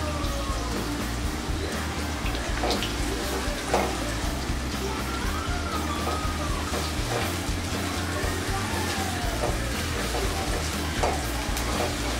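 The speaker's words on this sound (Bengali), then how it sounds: "পেঁয়াজটা আমি হালকা বাদামি করে ভেজে নিব।" Finely chopped onion fries with bay leaves in a pan of oil on its way to light brown, making a steady close sizzle broken by stirring scrapes, with faint background voices.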